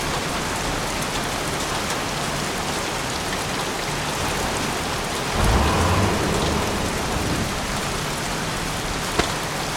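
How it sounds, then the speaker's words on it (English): Heavy rain pouring in the video game Heavy Rain: a dense, constant hiss of downpour with a low thunder rumble swelling midway and a brief sharp crack near the end, no talk. "Goddamn rain, soaking wet."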